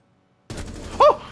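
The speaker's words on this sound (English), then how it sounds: "He shotgunned me out of nowhere." A shotgun blast in a video game cuts in after near silence as a loud, sharp burst, followed by a brief bright tonal flare over continuing game noise.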